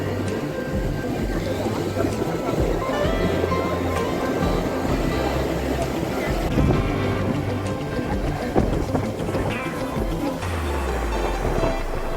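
Ocean surf crashes and rumbles continuously as a fishing boat comes in through heavy waves at Puri, with a low engine drone and voices mixed in.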